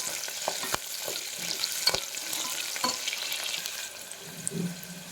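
Green chillies sauté in a hot pan with a steady crackling sizzle, broken by a few sharp spatula scrapes and stirring clinks, close and continuous with no talking.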